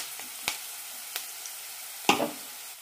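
Tomato drops into onions frying in a pan for an ivy gourd curry, a faint low sizzle with a few light taps and one louder hissing burst near the end.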